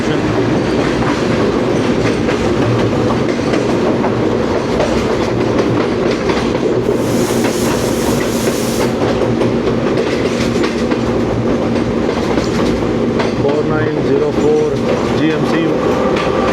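Subak Raftar railcar train running on the tracks between Rawalpindi and Lahore in monsoon weather, a loud continuous interior rumble with rhythmic wheel clatter throughout, a brief hiss midway and faint voices underneath.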